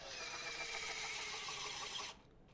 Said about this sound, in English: Let me try the loosening mode here.